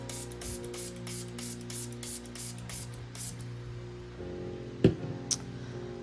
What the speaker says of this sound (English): spray it with rubbing alcohol